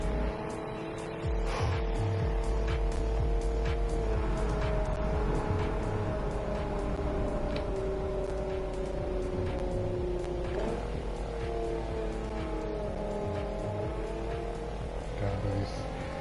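A car driving through a road tunnel, its engine hum and tyre roar steady and enclosed for the whole stretch, with faint reverberant swells and no voices.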